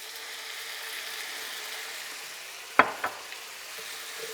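Vegetables for an antelope curry sizzle steadily in a pan with broth added, a constant close frying hiss broken by one or two sharp stirring clinks, with no talking.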